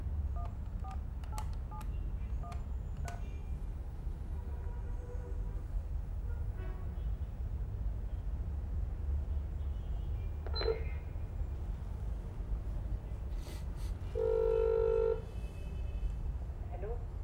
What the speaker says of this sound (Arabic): انا نفسي نطلبها في التليفون ونكلمها.